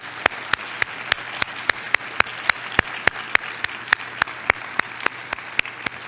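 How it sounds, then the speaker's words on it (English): At a scientific meeting's closing session, a crowd applauds the program committee, with one set of hands clapping loudly and evenly close by over a softer bed of clapping. "would you give them a great round of applause?"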